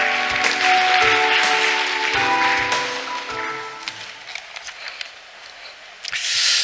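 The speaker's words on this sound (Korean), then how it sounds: "큰 박수로 맞아주시기 바랍니다." Audience applause welcoming a provincial governor to the stage at a conference opening ceremony, with a broad clapping wash and music tones underneath that fades, leaving scattered claps before a short burst at the end.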